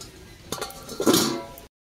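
A metal lid is set over a pot of fish heads rubbed with salt and turmeric, giving a couple of short clattering clinks and a brief scrape, close by, with no talking.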